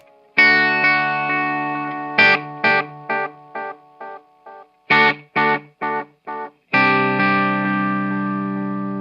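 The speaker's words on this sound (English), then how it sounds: "So let's hear the maximum delay." An electric guitar through an Eastwood Black Box pedal with delay set to its maximum of 450 milliseconds; sustained chords alternate with short stabs, each trailed by clear repeats, loud and close with no talking.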